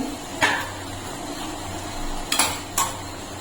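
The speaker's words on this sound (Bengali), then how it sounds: "আবার ঢেকে দিচ্ছি একটু, আবার ঢাকা খুলে নিচ্ছি" A lid is set onto and lifted off a pot of sugar syrup cooking milk-based rasgulla, making three sharp metallic clanks, one early and two close together near the end, over a low simmering background.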